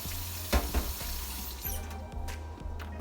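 A Keurig coffee maker runs its final water flush during descaling, giving a steady, moderate hiss of running water with a couple of soft knocks and gurgles near the start.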